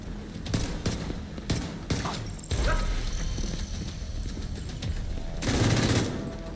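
Sharp pistol shots and bursts of gunfire ring out in The Division 2, a cluster of loud distinct cracks early on, followed by denser firing and a heavy louder flurry toward the end.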